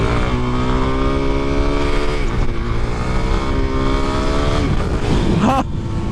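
A supermoto motorcycle being ridden, with its engine droning loud and close under steady wind noise, the revs shifting a few times before a brief drop near the end.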